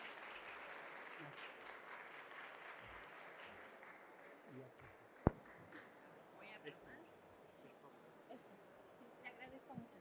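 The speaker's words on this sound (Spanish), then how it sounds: "Por favor, la recibimos con un aplauso." An audience at a physiotherapy lecture claps steadily, the applause fading gradually, with a sharp tap midway and scattered faint noises afterward; quiet overall.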